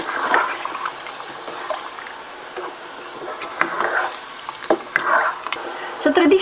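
Coconut milk gets stirred into Bicol Express in a pan, with wet sloshing and splashing plus sharp clinks of a utensil against the pan, up close and moderately loud.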